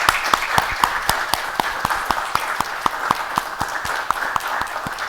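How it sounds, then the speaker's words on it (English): A room applauds after a Howard University talk on the economy, with brisk, evenly spaced claps from a smallish crowd, moderately loud and sustained. "Let's give him a round of applause"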